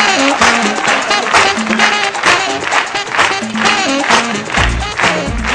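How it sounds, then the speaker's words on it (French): Audience applause at a live stage comedy show, dense clapping from a crowd filling the whole stretch steadily and loudly, with a voice or music sounding faintly beneath it. "Bonsoir sous vos applaudissements."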